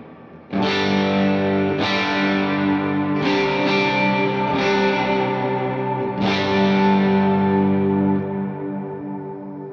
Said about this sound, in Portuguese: É um reverb bem carregado, porém não embola, né?